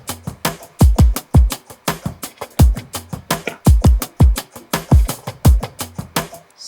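Pre-chorus section of an electronic pop production, punchy kick drum hits landing in a steady rhythm with layered percussion and bright hits above, loud and continuous with no talking.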